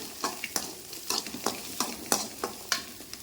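Grated coconut stir-fried with ginger and garlic in a pan, a soft sizzle broken by regular sharp scrapes of a spatula, about a dozen strokes in steady rhythm, close and without speech.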